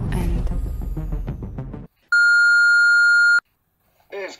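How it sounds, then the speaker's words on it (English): After a burst of speech, a telephone line sounds one loud, steady electronic tone lasting just over a second. It is followed by silence and a brief voice at the end. "Come on, pick up the phone."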